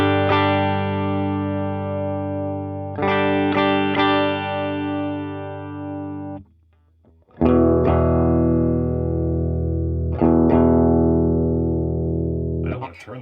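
Electric guitar played through an overdrive pedal set as a clean boost, loud sustained chords struck and left ringing, with a brief near-silent gap midway before more strummed hits.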